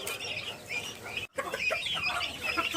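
A month-old turkey chick of a colour variety makes soft, high cheeping calls in short bursts, faint and close, with a brief gap midway.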